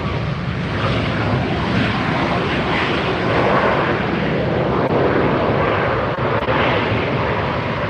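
An Alaska Airlines jet on the runway at LAX at sunset roars steadily and loudly, a broad continuous engine rumble and rush that holds for the whole stretch with faint voices beneath.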